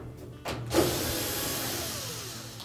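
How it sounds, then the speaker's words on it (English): Power tool backing out 3/4 inch hex head screws from the rear panel of a GE washer, a short motor whine that starts abruptly and holds steady, close and clear with no talking. "our next step will be to remove these 3/4 inch hex head screws"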